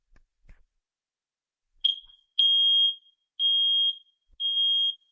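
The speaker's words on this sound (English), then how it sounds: "Now we're going to test one of our two Kide smoke and CO detectors." Kidde combination smoke and carbon monoxide detector sounding its test alarm in a quiet room: a few sharp high-pitched beeps, one short followed by three longer evenly spaced tones, clear and close.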